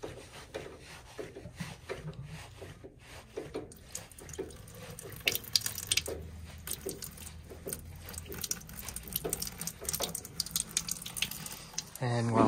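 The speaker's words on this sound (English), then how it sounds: "Let it drain out." Water drains and trickles out during a service call on a cracked rooftop HVAC unit, faint splashing and dripping mixed with rattles and handling noise, and a voice briefly audible in the background.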